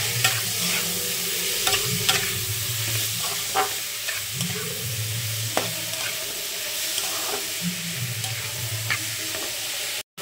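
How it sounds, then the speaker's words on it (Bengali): Chopped mushrooms sizzle steadily in a hot pan while a utensil stirs and scrapes through them in repeated strokes, close and clear with no talking. "দিয়ে দিলাম কেটে রাখা মাশরুমগুলো। এবার নাড়াচাড়ার পালা।"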